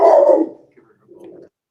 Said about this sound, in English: The dogs are here, though.